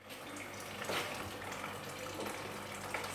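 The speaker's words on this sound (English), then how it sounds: "So I'm going to add some water." Water running and splashing steadily into a cooking pot for Afang soup for a few seconds, a continuous close pouring sound.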